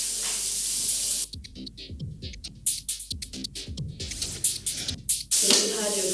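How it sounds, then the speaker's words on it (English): Loud hissing sizzle from vegetables stir-frying in a hot pan at the start and again near the end, with a person talking in between. "You don't leave it on the fire, you keep stir frying it."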